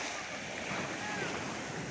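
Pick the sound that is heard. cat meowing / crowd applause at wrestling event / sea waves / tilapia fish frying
sea waves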